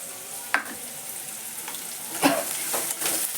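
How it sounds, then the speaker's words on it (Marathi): Onions roasting and being stirred in a pan for poha, with a steady sizzle and a few sharp spatula scrapes over about three seconds, close and moderately loud, no talking. "कांदा वगैरे भाजते मी"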